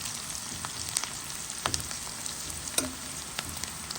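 Onions frying in a pan for a dish of salted pig tails with potatoes, eggs and bitter gourd, giving a steady close sizzle with a few small pops and crackles and no talking.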